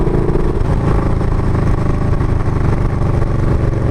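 A motorcycle engine revs hard and steadily at close range, a loud continuous mechanical roar with a rattling, clattering texture and no pauses.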